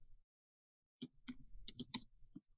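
Short bursts of computer keyboard typing, a quick cluster of crisp key clicks at close range after a brief quiet start, with no talk.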